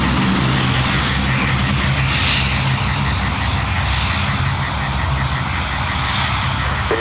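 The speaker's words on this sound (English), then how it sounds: "This could only be the sounds of a Dash 8 coming past" A Dash 8 turboprop airliner passing at Sydney Airport, a loud, steady engine drone and propeller roar filling the whole stretch without fading.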